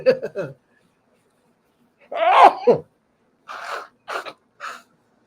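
A close, sharp sneeze bursts out after a short quiet pause, with brief vocal sounds before it and a few short snorts or breaths afterward.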